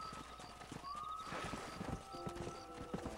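Horse hooves clip-clop steadily in the video game Red Dead Redemption, with a horse whinnying and faint game sounds underneath, moderately close but fairly quiet.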